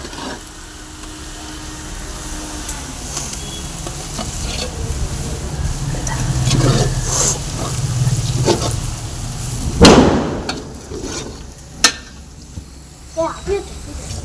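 Biryani is stirred and fried in a large pot, with a steady sizzle and scraping stirs close by, a sharp metallic clank near the end, and voices talking over it.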